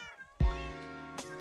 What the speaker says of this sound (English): Raven, it's cats.